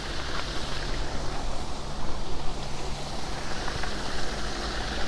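A stream flows in the Ermenonville forest near the château, making a steady broadband rushing wash that is loud and continuous, with no voices.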